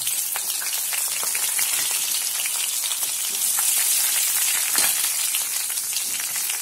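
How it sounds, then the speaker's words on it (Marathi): Mustard seeds and cumin sizzle in hot oil in a pan for a vermicelli upma tempering, a loud, dense crackle and hiss held close and constant, with scattered sharp pops throughout. "एका पॅन मध्ये मी तेल गरम करायला ठेवलेले आहे. आत येता मोहरी, जिरं टाकायचं."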